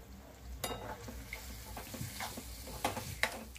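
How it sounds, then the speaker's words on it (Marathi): Minced prawns are stirred into a hot tempering, giving a steady sizzle and fry with scraping stir strokes and a few sharp clinks against the pan, no voices. "आता आपण जी कोळंबी बारीक करून ठेवली होती ती आपण या फोडणीमध्ये टाकून घ्यायची आणि छान फोडणीमध्ये मिक्स करायची व्यवस्थित"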